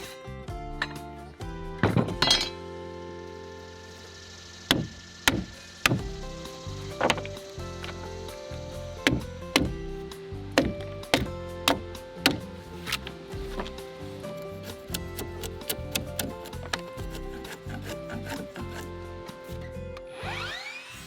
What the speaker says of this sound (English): Then I use the hammer to knock out most of the material and then clean up the joint with a sharp chisel.